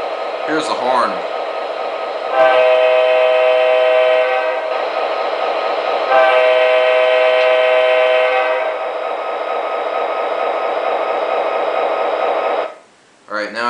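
An MTH Premier SD50 Norfolk Southern model locomotive sounds its horn in two long loud blasts over a constant diesel engine drone, with a voice briefly heard at the start and end.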